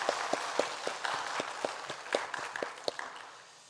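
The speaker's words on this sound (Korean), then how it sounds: "하나님께 감사와 영광의 박수를 한번 올려드리시겠습니다" A church congregation claps together during a Sunday worship service, a steady rhythmic applause with sharp individual claps standing out, holding for several seconds before easing off toward the end.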